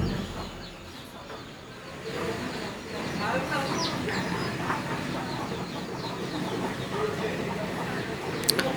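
Gram flour coated coriander leaves fry in hot oil with a continuous bubbling crackle close by. The sizzle grows fuller partway through and runs under faint background noise.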